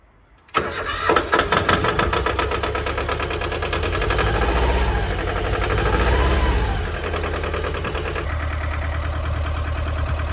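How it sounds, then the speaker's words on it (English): A Ford 1200 tractor with a loader cranks and catches abruptly, then settles into a loud, steady, slightly knocking idle, close by, with the revs rising and easing midway. "There she is, my little Ford tractor."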